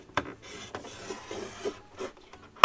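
A tool scores a line along a ruler on paper for a flatbook, heard as short, close scraping strokes with soft rubbing between them and a sharp tap at the end.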